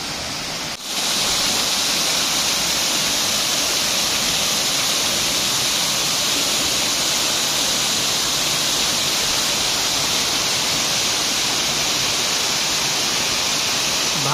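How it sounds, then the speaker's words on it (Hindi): Constant roaring rush of a cave waterfall in Odisha, India, loud and unbroken throughout, with a brief quieter moment at the very start. "सुंदर झरनाटे"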